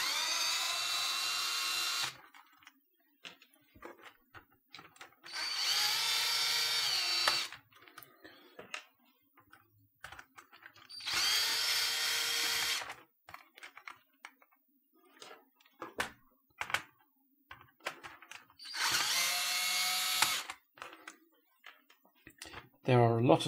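A power screwdriver backs screws out of a keyboard build in four separate loud whirring bursts of about two seconds each, with quiet gaps of clicks and handling noise between them and a voice speaking softly.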